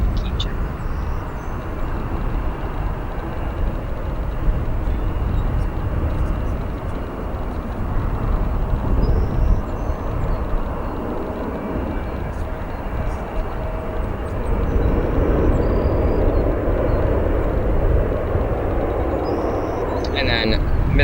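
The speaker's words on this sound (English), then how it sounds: "a decently fast aircraft landing" An American Airlines Boeing 737 lands at O'Hare a little above normal landing speed, a broad, steady jet roar that swells slightly near the end, with a voice talking over it.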